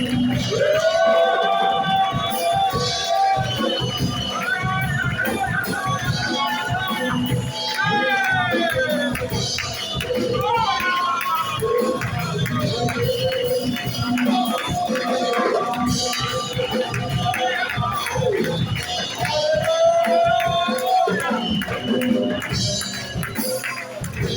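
A church congregation loudly acclaims Jesus during worship, a dense mass of voices shouting and cheering continuously throughout, with individual cries rising over the crowd babble.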